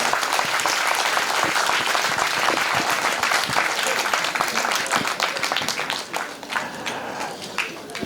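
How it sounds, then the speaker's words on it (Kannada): A large audience claps loudly and continuously for author Banu Mushtaq at a welcome-home felicitation after her Booker Prize win, a dense wash of hands that thins and tapers off toward the end. "ಭಾನು ಮೇಡಮ್ ಅವರಿಗೆ ಮತ್ತೊಮ್ಮೆ ತಮ್ಮೆಲ್ಲ ಜೋರು ಚಪ್ಪಾಳೆ ಬರಲಿ"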